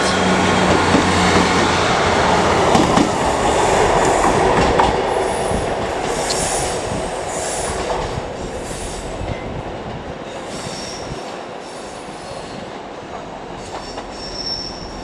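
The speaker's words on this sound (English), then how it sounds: "our next train of the day is going to be 158791 with a northern service to Sheffield" Northern class 158 unit 158791 on a Sheffield service at Leeds station, rumbling steadily on the rails with wheel squeal and faint clickety-clack, a continuous loud rail sound with high squeals near the end.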